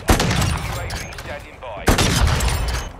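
Sniper rifle shots in a first-person shooter video game, two loud sharp blasts about two seconds apart, each followed by a ringing decay over busy game sounds and background noise.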